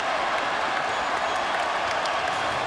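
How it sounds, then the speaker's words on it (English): Basketball arena crowd during an NBA game at Miami, a dense, steady roar of many voices and clapping chanting MVP, loud and continuous without a clear rhythm. "And the crowd chanting MVP"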